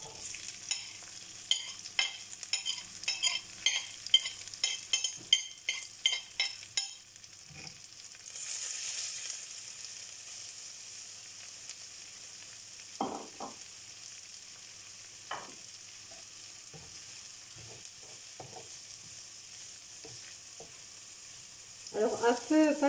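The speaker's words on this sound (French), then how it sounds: "Je vais maintenant rajouter les oignons." Sliced onions go into a pan over moderate heat and are stirred, giving a run of close scraping and clattering strokes followed by a quieter sizzle and scattered taps, with no talk.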